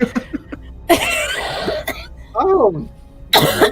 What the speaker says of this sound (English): First, I'm gonna cough.